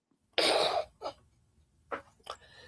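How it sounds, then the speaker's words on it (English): One strong, harsh cough from a person with a sore, rough voice, followed by a few softer, shorter coughs or throat-clearing bursts, close to the microphone with quiet pauses between them. "I've been coughing to death"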